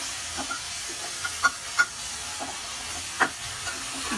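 Onion frying in masala for a raw mango curry, a low steady sizzle with scattered scraping and tapping of a spoon against the pan as it is stirred.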